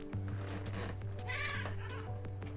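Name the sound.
cat meowing in a video game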